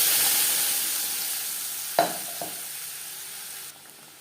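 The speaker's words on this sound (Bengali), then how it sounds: "মাছ ভেজে নেওয়া তেলে দিয়ে দেবো পেঁয়াজ টমেটোর পেস্ট" Onion and tomato paste hitting hot oil left from frying pangas fish, a soft steady hiss that gradually fades, broken by one sharp clunk of a utensil and a quieter knock, no voices.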